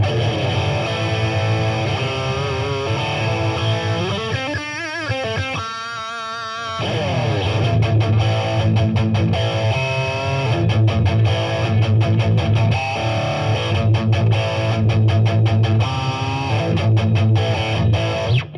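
An electric guitar plays through a Boss distortion pedal set at 75%, giving a loud, saturated, continuous tone of sustained chords and riffs with some choppy muted strums. No one talks.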